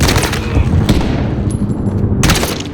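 Rapid gunfire bursts in a Call of Duty: Modern Warfare firefight during an ambush near a machine gun nest, loud and dense with booming shots and a continuous rattling barrage throughout.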